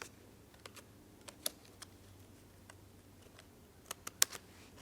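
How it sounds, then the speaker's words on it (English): Sparse, faint snips and clicks of Cutter Bee scissors trimming paper for a card, a few isolated cuts spaced apart in a quiet room, with a small cluster near the end. "just using my cutter bee scissors, I'm going to trim away the excess"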